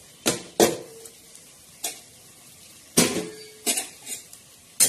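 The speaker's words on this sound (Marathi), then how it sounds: "आता बघा हे पोहे आपण कढईत टाकणार" Dry flattened poha tipped into a kadhai, a few sharp clattering knocks of metal and scraping at scattered moments, close by with no talk.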